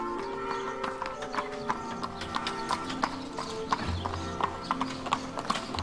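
White Lipizzaner horses' hooves clip-clop at the Spanish Riding School in Vienna: close, rhythmic hoof strikes on the arena floor with a faint musical tone underneath.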